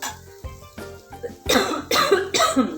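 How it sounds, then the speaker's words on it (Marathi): A series of harsh coughs, first a few separate bursts, then louder, rougher coughing fits close to the listener. "खोकला येतोय"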